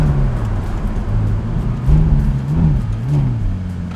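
Ferrari 430 Scuderia 16M slowing hard from about 70 mph, a steady loud engine drone with a deepening low note and shifting tone, no voices over it.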